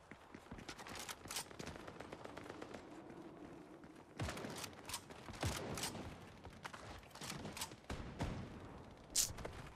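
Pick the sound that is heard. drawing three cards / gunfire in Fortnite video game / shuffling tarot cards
gunfire in Fortnite video game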